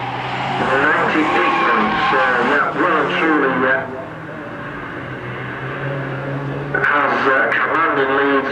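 Ford XR2 championship race cars at Croft circuit roar past with tire squeal, the engine note swelling and fading, mostly under continuous commentator talk.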